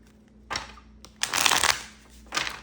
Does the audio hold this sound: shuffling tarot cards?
yes